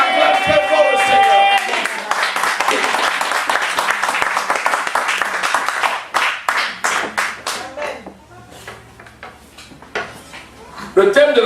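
A church congregation claps and cheers loudly in praise, with dense rhythmic clapping and raised voices that thin into scattered claps and quieter voices toward the end.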